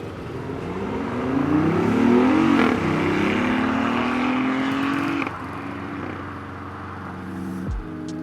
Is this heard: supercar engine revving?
yes